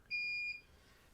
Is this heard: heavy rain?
no